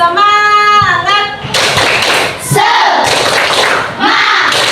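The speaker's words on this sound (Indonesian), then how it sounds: "Tepuk, semangat." Elementary school class performing a rhythmic tepuk semangat clap chant: a voice calls out, then a burst of many children clapping and shouting together, loud and close, with sharp claps under the group voices.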